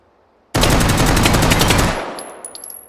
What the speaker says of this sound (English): 9mm fully automatic gun, and I will show it to you.